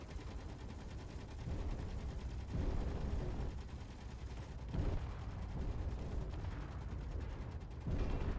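Missile turret fire in the space game Space Engineers, a dense rumbling barrage of heavy impacts and rattling blasts that swells in repeated waves across the whole stretch.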